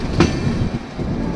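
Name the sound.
Vistadome train cornering near Araku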